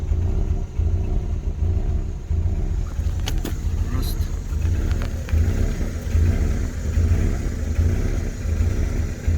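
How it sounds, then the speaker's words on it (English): A 1996 Ford Mondeo with a 1.6 gasoline engine runs with a steady low rumbling idle that swells briefly as it is revved, heard up close and continuously with no talk over it. "So when you rev it up, it sounds good. When it's at idle, it doesn't sound good."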